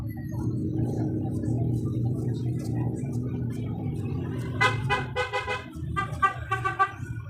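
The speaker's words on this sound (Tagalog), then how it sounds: "Ingay mo busina." A low engine rumble gives way to a vehicle horn honking in several short, loud bursts.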